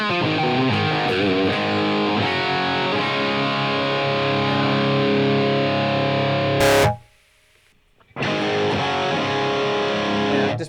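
Heavily distorted electric guitar played through a Line 6 Helix modelling a Greenback speaker cabinet, thick sustained riffing with a sharp burst and abrupt drop-out near the end before the playing resumes, loud with no talk.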